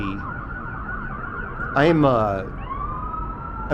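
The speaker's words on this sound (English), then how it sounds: "I'm just going to let the sirens go by before I have to shout over it" Wailing emergency sirens pass nearby on a Las Vegas street, one rising loudly in the middle before fading, with a second siren tone sweeping at the end.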